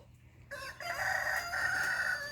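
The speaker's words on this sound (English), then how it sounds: "Clearly by that behaviour there's 2 roosters." A rooster crows loudly and close by, one long drawn-out call with a short lead-in, and no talking.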